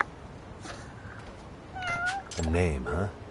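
Cats meow in the video game Lost Judgment, first faintly, then a couple of louder, drawn-out meows close by toward the end.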